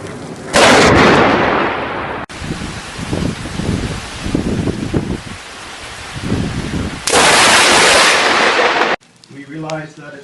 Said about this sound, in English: Sweet lightning strike, by the way.